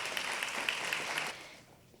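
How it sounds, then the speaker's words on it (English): Audience applause at a School of Education pinning ceremony, a fairly distant crowd clapping steadily for a short stretch and then quickly fading away. "Ms. Abby Wilson, another round of applause."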